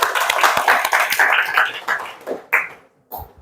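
Schoolchildren in a classroom clap their hands together, a close, uneven burst of many hands that thins out and trails off into a few scattered final claps.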